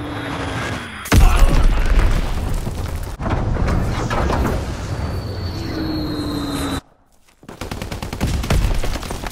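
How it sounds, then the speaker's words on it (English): Bomb explosions and gunfire from the video game Call of Duty: WWII, loud rumbling blasts and crackling bursts that carry on for several seconds, broken by a short silent gap. "Recon aircraft observed. Enemy bomb incoming."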